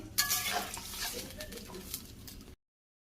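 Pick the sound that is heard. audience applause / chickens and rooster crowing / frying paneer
frying paneer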